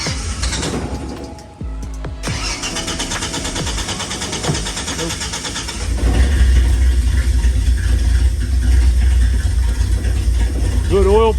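A 1985 Ford Bronco with a new starter and fuel pump cranks and catches after a year of sitting. The engine then settles into a loud, rough, uneven idle close by, with mechanical clatter and brief talk.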